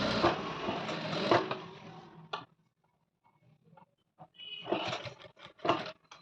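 A sewing machine stitches fabric piping in a close, whirring run for about two seconds, goes quiet, then starts again in short bursts of stitching.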